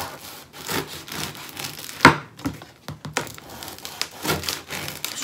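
A knife saws through a crusty, rather firm baguette with several rough, rasping strokes close by, broken by short pauses and a sharp crackle of the crust.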